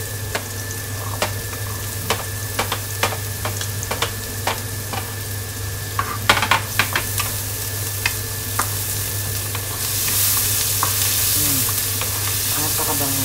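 Garlic sizzling and frying in a pan for dinuguan, a steady crackle with scattered spatula clicks and stirring, louder hiss rising near the end, no talk.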